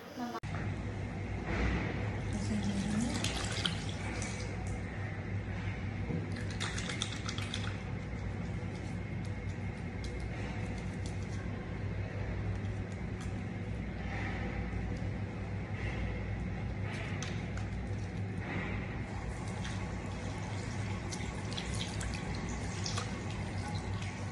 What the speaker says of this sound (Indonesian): Selanjutnya saya akan melakukan cuci tangan lagi